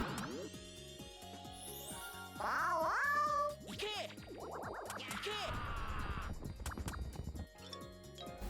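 A cartoonish cat meows in the Billy Hatcher and the Giant Egg video game, giving a couple of bright, rising calls over looping game music and effects.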